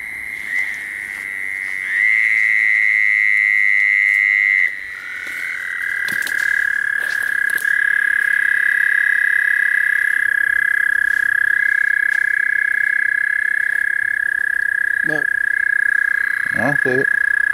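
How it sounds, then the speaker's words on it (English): A sustained high trilling croak from toads and young bullfrogs at night by a river fills the air continuously, with a few short chirping calls near the end. "Ain't nothing but just some horny toads and some baby bullfrogs"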